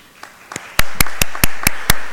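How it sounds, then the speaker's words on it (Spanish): After a couple of soft taps, crisp, close claps land in a steady, even rhythm at an academic outreach event, with about seven sharp hits in quick succession. "un aplauso para Rosemary Munguía, que nos apoyó."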